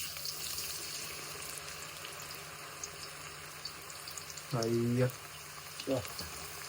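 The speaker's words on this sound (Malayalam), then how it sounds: "അപ്പൊ നമ്മള് ചിപ്സ് ഇടാൻ പോവാണ്" Banana chips go into hot oil and fry with a steady close hiss and bubbling, interrupted by a couple of brief voiced sounds near the end.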